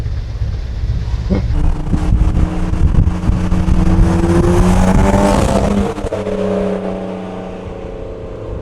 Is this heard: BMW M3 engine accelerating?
yes